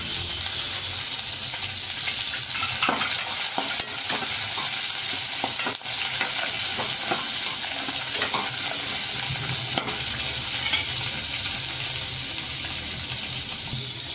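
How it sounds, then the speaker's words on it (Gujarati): Cashews and spices roasting in a pan over low gas, a continuous soft sizzle with scattered scraping stir strokes, steady and close, with no voices. "ગેસ ધીમો રાખીશું તેમાં કાજુ પણ નાખી દેશું જેથી કરીને તે પણ સરસ રીતે શેકાઈ જાય"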